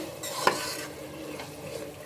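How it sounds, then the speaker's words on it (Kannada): Mint leaves fry in hot oil while a spoon stirs them, a soft close sizzle with one sharp scrape of metal against the pan, then quieter stirring. "ಎಣ್ಣೆಲಿ ಫ್ರೈ ಆದಾಗ ಪುದೀನ ಫ್ಲೇವರು ಚೆನ್ನಾಗಿ ಬರುತ್ತೆ"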